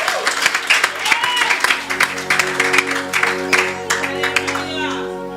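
A church congregation claps and cheers at a French-speaking service, dense sustained applause mixed with scattered shouts, with music sustaining underneath throughout.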